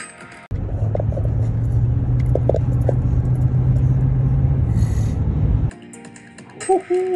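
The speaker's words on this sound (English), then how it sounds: "Woohoo, I'm pressing on the gas." A 2023 Cadillac Escalade V, a large luxury SUV, gives a low, steady engine rumble while accelerating, held at a constant loud level for about five seconds before cutting off abruptly, followed by brief clinks and rustles.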